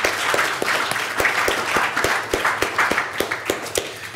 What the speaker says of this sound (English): And another big round of applause for our judges.